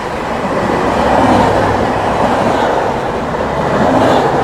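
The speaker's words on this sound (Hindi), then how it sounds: "पीछे से आती हुई प्रयागराज भिवानी कालिंदी एक्सप्रेस" The Prayagraj–Bhiwani Kalindi Express rushes past at speed, a loud, steady roar of wheels and rail noise close by with faint clattering throughout, no voices.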